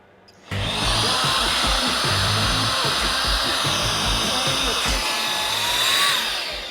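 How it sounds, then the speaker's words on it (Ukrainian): A Dnipro-M VC 10BC cordless vacuum cleaner on its first power setting blows air to inflate a balloon: after a brief quiet moment it starts up and holds a loud, steady whirring hiss close by. "спробуємо спочатку, чи надує шарик."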